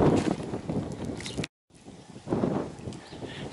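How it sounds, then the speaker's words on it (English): Strong wind blows on the coast at Fairbourne, a steady rough buffeting rush against the microphone that cuts out briefly midway, then returns, loud and close. "unfortunately it's very breezy. I didn't think it would be this breezy today"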